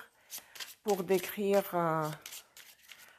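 Lenormand cards being shuffled by hand, with short papery riffling bursts at the start and end and a stretch of close talking in between.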